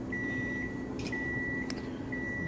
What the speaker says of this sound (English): the microwave.